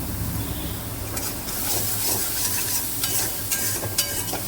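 Oil sizzling in a pan as masala is stirred and fried for a fish curry, a constant crackling hiss broken by scraping strokes of the spoon, close and alone.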